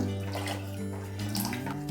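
Diluted rice flour water poured into a pot of boiling water while making modak dough, a steady close liquid pour with bubbling under it, continuous and fairly quiet, no talking.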